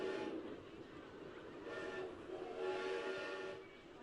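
A monorail train in the OpenRCT2 video game runs with a steady mechanical rolling drone, and whistle-like tones swell and fade over the continuous noise.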